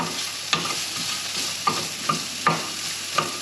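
Onions sizzle steadily in a pan for Basque piperada, a close frying hiss broken by about five sharp utensil taps and scrapes against the pan, with no talking.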